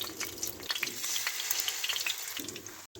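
Egg-dipped bread rolls shallow frying in a pan over medium-low flame, giving a soft, continuous crackling sizzle with scattered pops, fairly quiet and close, no talk.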